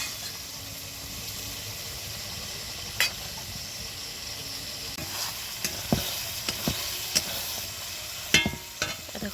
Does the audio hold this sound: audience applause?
no